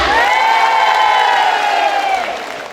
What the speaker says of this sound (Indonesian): Coba tepuk tangan biasa, tepuk tangan bahagia luar biasa